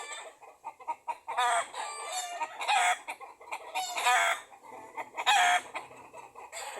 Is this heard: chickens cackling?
yes